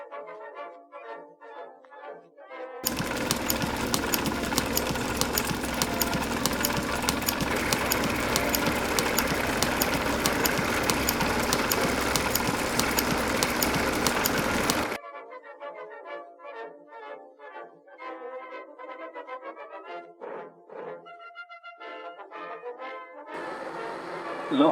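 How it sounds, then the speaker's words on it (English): Milling machine gashing the teeth of a gear hobbing cutter, a loud sustained grinding cut of about twelve seconds, bracketed by quieter machine running with irregular mechanical knocks before and after. "The teeth may now be gashed on the milling machine."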